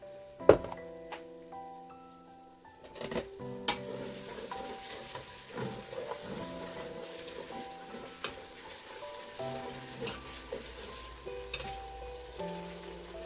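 Onion, ginger and garlic frying in a pan for mackerel sardines in tomato sauce, a steady close sizzle broken by scattered utensil knocks and scraping stirs, with no talking.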